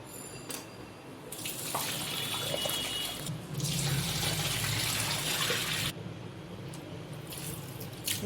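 Water poured and rinsed over a clay pot as it is scrubbed during seasoning, heard as a soft, splashy tap-like gush that swells and eases in bursts with a few drips, fairly quiet and without voices.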